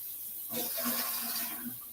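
Warm water gushes from a kitchen tap into a container while canning jars are prepared, a soft steady splashing rush that starts abruptly and continues close by at low volume.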